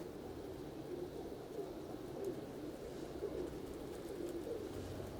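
Soft, repeated cooing from pigeons, low rounded calls recurring every second or so amid faint background noise, no voices over them.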